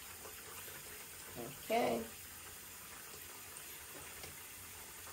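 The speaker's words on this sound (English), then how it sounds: "We're gonna wash your face, right?" Tap water runs briefly while a baby's crusty face is washed at a sink, a short soft gush and splash amid quiet room tone, with a nearby adult voice speaking briefly.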